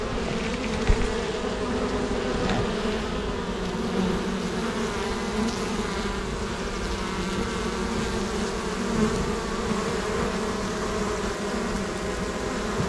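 Honeybees buzzing at a beehive entrance, with foragers bringing in pollen: a steady, dense, close hum of many wings that holds without a break throughout.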